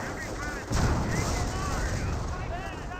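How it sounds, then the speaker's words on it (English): An anti-tank gun fires in Company of Heroes, a sudden heavy blast that rolls into a dense rumble of battle gunfire, with a commentator talking over it. "AT gun is firing away"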